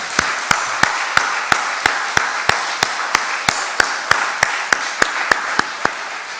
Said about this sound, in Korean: 격려의 박수 한번 할까요